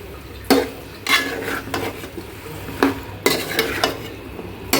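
Beef liver being sautéed and stirred in a pan, the spoon scraping in loud repeated strokes about every half second to second, with a steady sizzle underneath and no voices.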